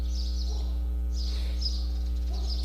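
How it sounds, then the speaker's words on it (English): Several birds call loudly and repeatedly nearby, their shrill, sweeping cries rising and falling over a steady low hum. "Got some very noisy birds right now."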